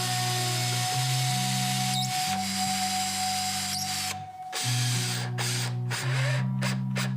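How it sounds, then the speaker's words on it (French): A power tool whines at steady pitch, stopping and restarting in bursts, as a special fine-toothed saw cuts a groove in a workpiece clamped in a stringed-instrument workshop. "c'est une scie avec un alésage spécial"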